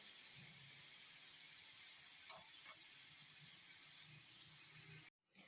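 A pressure cooker holding turnip and meat curry vents steam after its weight is lifted, producing a steady, fairly quiet hiss that runs unbroken for about five seconds, then stops abruptly.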